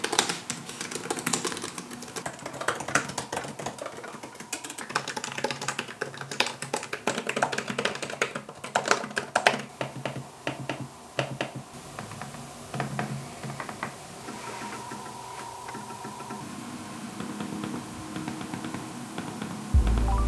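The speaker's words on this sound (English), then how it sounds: "here's a sound sample of the keyboard and trackpad compared to some other laptops" Typing and clicking on the keyboard and trackpad of a Razer Blade 16 laptop, a steady run of close, light key taps with occasional sharper clicks over a faint background hum, no voices.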